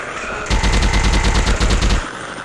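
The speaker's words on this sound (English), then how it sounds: "I'm shooting these fools up!" Rapid automatic gunfire from a commando shooter video game, a loud sustained burst of evenly spaced shots lasting about a second and a half, then cutting off.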